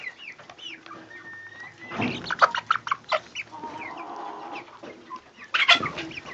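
Chickens cluck and squawk nearby, several birds calling over one another in uneven bursts, with a louder flurry near the end.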